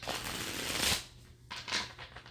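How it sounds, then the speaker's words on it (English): A deck of playing cards is shuffled up close: a long papery riffle, a brief pause, then a second shorter burst of cards fluttering together, with no talking. "I think that's a good enough shuffle"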